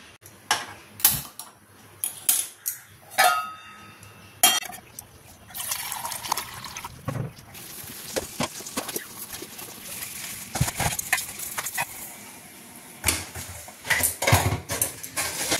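Tea brewing in a home kitchen, with water and tea leaves in a pot: clinks and taps of utensils, then a continuous liquid bubbling and trickling under scattered sharp knocks, close by and fairly loud, with no voices.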